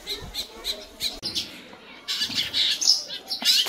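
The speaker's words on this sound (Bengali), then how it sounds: "ঝিচিমিচি ডাক" Birds squawk and chirp on a winter morning in a village, with short, repeated calls close by and a busier burst of chirping toward the end.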